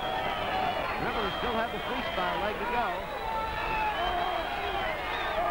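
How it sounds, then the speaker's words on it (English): Crowd at the 1962 men's AAU swimming championships in Cuyahoga Falls, Ohio, whoops and roars during a 400m individual medley, a steady wash of noise running under a commentator's voice. "The crowd really whooping it up now"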